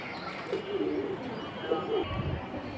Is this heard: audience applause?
no